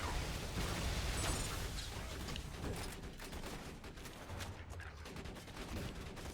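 A Bandit Muvv turret fires on enemies in Borderlands 2, rapid repeated gunfire bursts with popping shots and scattered blasts over continuous dense game noise, no talking.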